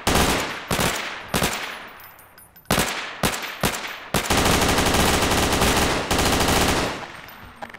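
AR-15 rifle gunfire in a zombie video game: several loud single shots at irregular intervals, then a sustained rapid burst lasting a few seconds, close and punchy.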